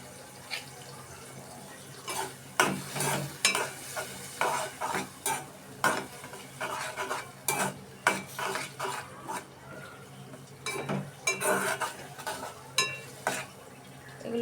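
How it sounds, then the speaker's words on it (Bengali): Dried loitta shutki (Bombay duck) is stir-fried in a pan, with repeated scraping strokes of a spatula against the metal over a soft sizzle. The clatter comes in an irregular rhythm and sounds close, with no talking. "এগুলো আমি 2 মিনিটের মতো কষিয়ে নিব শুটকিগুলো"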